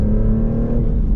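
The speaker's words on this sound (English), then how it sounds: "Little tire squeal there." Close, loud engine drone from a 2024 Maserati GranTurismo Trofeo with all-wheel drive accelerating out of a corner, a steady throaty roar. Any tire squeal is not clearly distinct.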